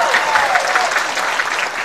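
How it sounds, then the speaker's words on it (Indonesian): A crowd at an Indonesian Ramadan gathering gives a short, loud burst of applause, a dense, continuous clatter of hands from start to finish. "Tepuk tangan dulu"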